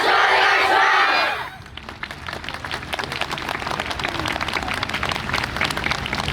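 A festival crowd at Sailing KOBE 2022 roars and claps for the KAMON dance team's finale performance, a steady wall of cheering and applause at fairly close range.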